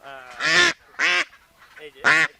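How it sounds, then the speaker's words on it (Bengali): A four-month-old farm duck gives three loud, harsh honking quacks at close range while being caught and held up. "আমি একটা হাঁস ধরে দেখবো দেখাবো আপনাদেরকে"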